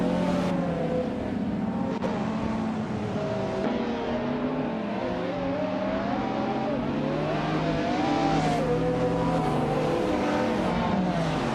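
Racing cars accelerate in a racing video game, engines revving and climbing in pitch as they pass, with occasional tire squeal over a continuous loud engine drone.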